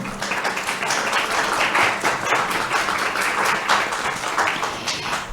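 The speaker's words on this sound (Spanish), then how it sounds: "Pido un aplauso para ellas" A conference audience at a panel on European Union–Latin America cooperation applauds the four female panelists with steady, dense clapping that carries on for several seconds without speech.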